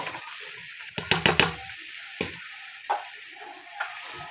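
Six medium onions fry in a cup of hot oil for a chickpea dish, with a soft sizzle under a quick burst of spoon-against-pan clatter and a few later scrapes.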